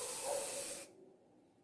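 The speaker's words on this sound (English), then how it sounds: "If I spray the perfume" A single hissing perfume spray burst lasting under a second, broad and airy, then cutting off to near silence before a faint sound at the very end.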